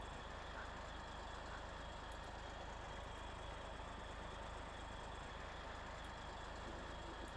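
A heavy truck drives toward a log station in SnowRunner, its engine a continuous dense low rumble with broadband road noise, steady and unbroken from start to finish.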